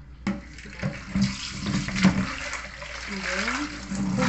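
Seaweed being washed under running water, with splashing and pouring as the weeds are rinsed by hand, heard up close alongside a speaking voice.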